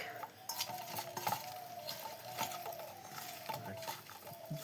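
Spiced paste being stirred and mixed with rice flour in a pot, with repeated scraping and clinking strokes of a utensil at close range and a faint sizzling bed, under a person talking.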